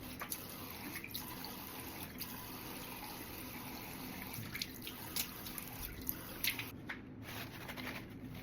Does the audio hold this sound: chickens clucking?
no